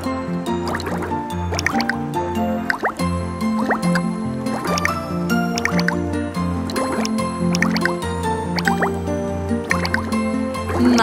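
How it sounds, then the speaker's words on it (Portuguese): A cartoon bubble machine at a water park churns out bubbles with a lively stream of wet plops, drips and squishy pops, repeating rhythmically over bright tonal sounds. No one speaks. "Máquina de bolhas!"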